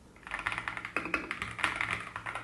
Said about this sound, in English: Typing experience is good.